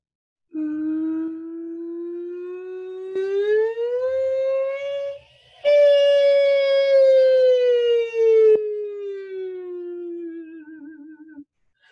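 A voice imitates an ambulance or fire engine siren, a single sustained tone sliding slowly up and then back down in pitch, clear and alone, with one short break.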